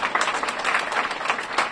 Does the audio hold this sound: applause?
yes